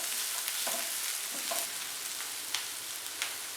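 Half a cup of chopped onion and a tablespoon of crushed garlic fry in a pan for Mexican enchilada sauce, giving a steady close sizzle with a few soft stirring scrapes and no talking.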